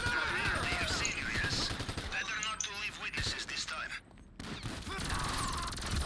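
Bursts of rapid gunfire in GTA V Online crackle in quick clusters, mixed under excited voices talking throughout, with a short lull near the end.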